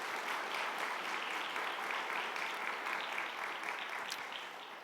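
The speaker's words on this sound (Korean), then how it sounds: "격려하는 의미에서 한번 박수 한번 해도 될까요?" Church congregation applauding during a Sunday service, a sustained wash of many hands clapping at close range that stays steady, then tapers off slightly at the end.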